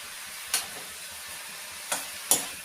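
Dried fish tossed with turmeric and salt in a pan, a faint steady hiss broken by three brief scraping stirs of a spatula.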